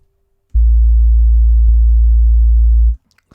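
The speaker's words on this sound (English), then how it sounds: "Start with a sine wave." A loud, pure low synthesizer sine tone, the start of a bass sound, holds steady for about two and a half seconds, with a faint click partway through, then cuts off.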